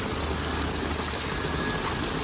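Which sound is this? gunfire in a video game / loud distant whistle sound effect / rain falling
rain falling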